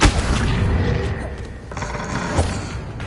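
Bombarda blasting spell in Hogwarts Legacy detonating as a loud booming explosion with a sharp opening thud, followed by rumbling debris and further thumps, with faint voices in the mix.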